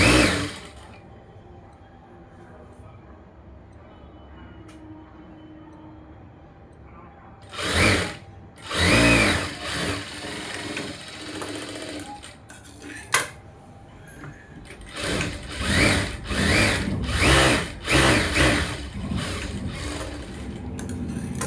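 Sewing machine stitching a blouse, running in several short whirring bursts separated by quiet pauses, close and fairly loud.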